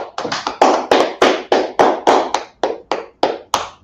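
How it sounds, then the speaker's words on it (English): An audience claps along in a steady, rhythmic beat of about fourteen sharp, loud claps that rise and fall in even pulses, with no talking over them. "Clap it up"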